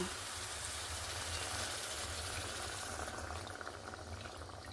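Water is poured into a simmering mustard fish curry in a pan, giving a soft, steady bubbling and sizzling hiss that stays quiet and close for a few seconds, with no talking.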